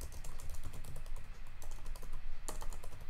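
Computer keyboard typed in quick, irregular bursts of clicky keystrokes, close and fairly quiet, with no voices.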